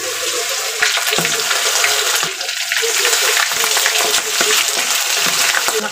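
Chicken liver fries and splatters in hot oil, a dense continuous sizzle with sharp popping crackles scattered throughout, close and loud.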